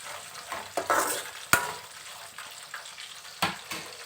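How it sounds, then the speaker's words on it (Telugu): Peanuts frying alongside half-fried ripe red chillies in a pan, a constant close sizzle broken by sharp stirring clanks and scrapes of a spoon against the pan, no speech. "కాబట్టి పండు మిర్చి సగం వేగినాకైతే నేనైతే పల్లీలు వేసుకున్నాను."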